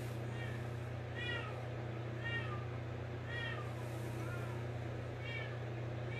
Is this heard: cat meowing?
yes